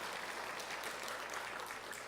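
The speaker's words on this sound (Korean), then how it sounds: "함께 서로 격려의 박수하겠습니다" A congregation in a university church claps together in encouragement at a Christmas service, a quiet but continuous patter of many hands throughout.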